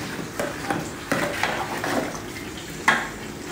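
A spoon stirs biryani masala frying with tomato, onion and ginger paste in a pot, giving soft scraping knocks against the metal over a low sizzle, with a sharper clink near the end.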